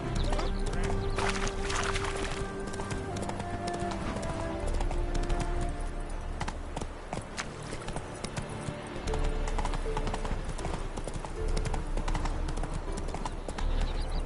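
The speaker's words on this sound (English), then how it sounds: "Whoa there, Roach" Horse hooves clip-clop steadily in the video game Witcher 3, a continuous trotting rhythm under game music and ambient sound, with no clear talk.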